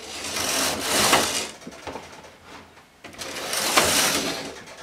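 Carriage of a domestic knitting machine swept across the needle bed knitting rows of a patterned piece, two long rasping sliding passes with a quieter gap between, close and clear.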